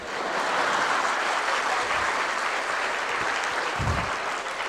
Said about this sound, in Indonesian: tepuk tangannya aja ragu-ragu.